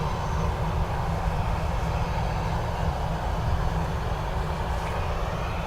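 A Ryanair airliner arriving from Glasgow rumbles at Dublin Airport on a windy day, a continuous low-pitched jet roar with steady broadband noise at moderate distance, no talk.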